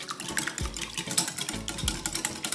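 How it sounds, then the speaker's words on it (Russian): Quick, rhythmic scraping clicks of a whisk beating two eggs in a bowl, close up and continuous, with no voices. "Венчиком забьем."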